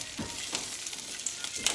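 Asparagus frying in olive oil in a skillet, a steady close sizzle with a few louder crackles and spatters and soft stirring bursts, no talking.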